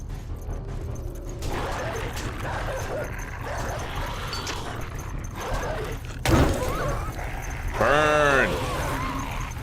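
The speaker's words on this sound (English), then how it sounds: "I hear the dogs. They're here." Zombie dogs in the survival game 7 Days to Die bark and yelp amid game noise, with sharper yips and whimpers toward the end, while a person talks over the action.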